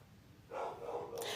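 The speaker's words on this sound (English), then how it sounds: "now the dog's barking" A dog barks faintly in the distance, a short burst of a couple of muffled barks heard after a quiet moment.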